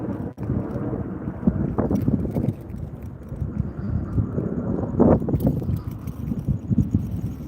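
Wind buffeting the microphone while riding an electric scooter in Las Vegas in the evening, a continuous rumbling gusty roar with brief louder bursts, no talk.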